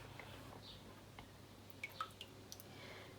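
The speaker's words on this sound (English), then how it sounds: "let all the drips drip off the bottom" Ceramic glaze drips off the base of a freshly dipped bowl, landing as a few faint, scattered taps over a quiet room background.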